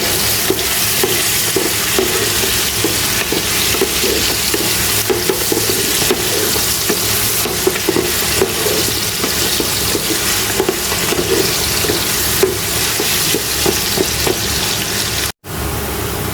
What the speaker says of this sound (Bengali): পেঁয়াজ, দারচিনি, লবঙ্গ, তেজপাতা দিয়ে হালকা একটু ভাজা ভাজা করে নিলাম